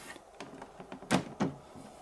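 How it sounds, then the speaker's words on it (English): The door of a Hot Toys MMS260 DeLorean collectible model car is lifted open by hand, giving a few faint, close plastic clicks and a soft rub with two sharper clicks near the end. "So just lift the door up."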